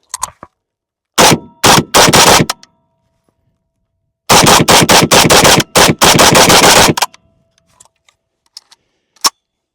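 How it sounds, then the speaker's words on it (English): A PSA AK101 rifle firing loud, close shots, first a short string of separate rounds, then after a pause a faster run of rapid shots with metallic ringing, followed by quiet handling clicks. "me load up the rest of the ammo and we'll just keep on shooting"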